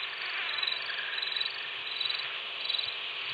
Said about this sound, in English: There's a small mosquito, but it's not right in my ear